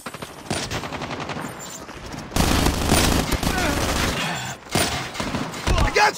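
Automatic weapon fire crackles in a multiplayer Hardpoint match of a first-person shooter, rapid bursts that turn into a sustained loud barrage, then short volleys, with game voice lines under the shooting.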